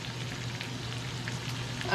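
Hamburger patties sizzle steadily in a cast iron skillet, a constant, moderately quiet crackling hiss with a brief rise in loudness at the very end.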